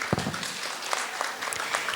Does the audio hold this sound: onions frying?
no